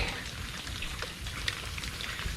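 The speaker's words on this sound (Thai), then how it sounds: "โอ้ฝนตกตลอดเวลา" Rain falling steadily outdoors during a fishing trip, a dense close patter of drops with scattered sharper ticks on nearby surfaces.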